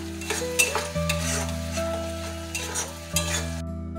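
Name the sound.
stirring and frying spice masala with Kashmiri chili powder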